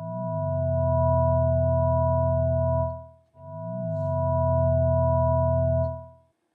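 Two sustained Reason Subtractor synthesizer notes with a slower attack, each swelling in gradually with a brief pitch bend at the start, then holding a steady buzzy tone before cutting off; loud and clean with no voices.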